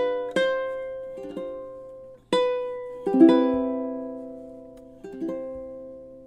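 Ukulele plays measures 11 and 12 of a Christmas song: a handful of soft strummed chords and single plucked notes at a slow pace, each left to ring out and fade, heard up close with no voices.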